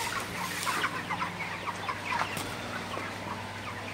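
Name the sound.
broiler chickens clucking on a poultry farm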